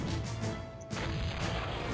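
In the strategy game Cossacks, a heavy booming cannon crash cuts in partway through, followed by dense rumbling impacts and clatter, loud and continuous like battle effects.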